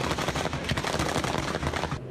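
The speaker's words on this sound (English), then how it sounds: "barrage of gunfire" A dense barrage of rapid gunfire during a deadly shooting of police officers in Baton Rouge, heard as a continuous rattling burst of many overlapping shots at a distance, fairly loud and steady, ending abruptly with a quieter tail.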